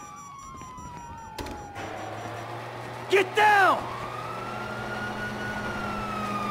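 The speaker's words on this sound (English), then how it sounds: "You hear that? Sirens!" Police sirens in the video game GTA V wail continuously, rising and falling, with a loud burst of noise midway and a voice shouting briefly over them.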